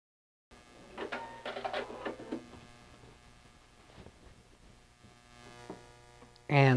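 A sewing machine stitches squares together for a beginner pinwheel quilt table runner, giving a steady mechanical hum broken by short bursts of needle action, then a loud, sudden tonal sound at the end.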